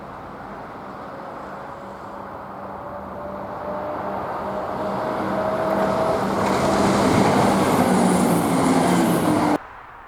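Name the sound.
Class 170 diesel train 170-407 passing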